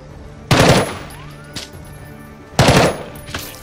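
Gunfire in the tactical game Jagged Alliance 3: two loud bursts of rapid shots about two seconds apart, with a brief single crack between them over a low background hum.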